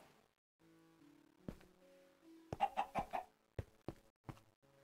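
A chicken in the Minecraft video game clucks in a quick run of short, clipped calls, fairly close and clear, with game sounds around it.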